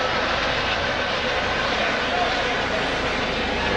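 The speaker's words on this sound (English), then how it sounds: "Just with noise, the helicopter flies over" Broad, steady rotor and engine roar of a helicopter flying over a football stadium during a women's league cup final, loud and constant, blended with crowd noise and a commentator talking over it.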